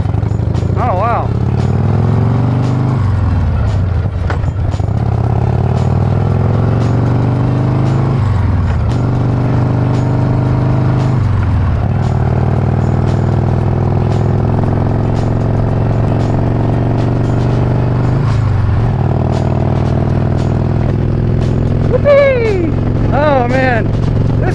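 1994 Harley-Davidson Heritage Softail FLST with a jockey shift and foot clutch, its engine rumbling loudly and continuously while riding, with revs rising and dropping through repeated gear changes.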